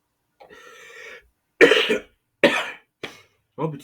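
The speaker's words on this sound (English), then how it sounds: "Sorry, guys, I have cough." A voice speaks briefly, then several harsh coughs follow in quick succession, close to the microphone.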